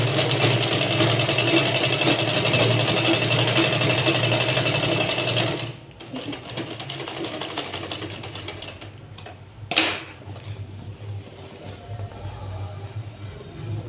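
A sewing machine runs steadily, stitching a straight seam on a fabric trunk cover, loud and close for several seconds, then stops, leaving faint handling sounds and a brief clatter.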